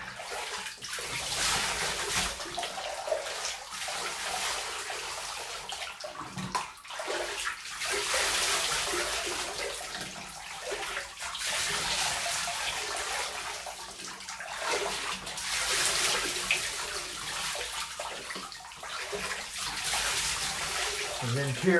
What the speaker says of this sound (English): And then periodically rinse to get all that dirt and shit.